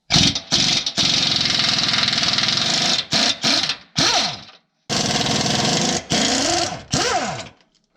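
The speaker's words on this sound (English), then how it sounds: "Switching to a 24mm, we're going to remove these bolts next." Removing 24mm bolts from under a vehicle differential on a 5.3L/6.0L engine truck, heard as loud, close, whirring rattles from a power tool in several long and short bursts, each spinning down and stopping, with silent pauses between.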